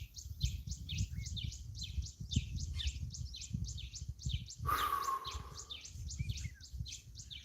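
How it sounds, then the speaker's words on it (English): Birds chirp in a rapid, repeating series of bright tweets throughout, with a brief louder whistle near the middle over soft low background rumble. "The bird sounds in today's stream are so good."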